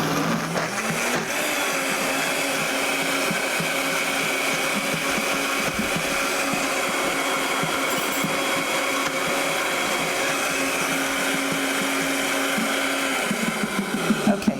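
A blender whirs steadily while blending a chunky dessert, a loud continuous motor drone that runs nearly unbroken before cutting off near the end.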